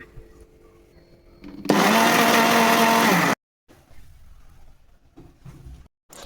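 Mixer grinder whirs loudly through a fish masala paste with vinegar and coconut oil, a steady high roar for about two seconds that cuts off abruptly, with quieter kitchen clatter around it.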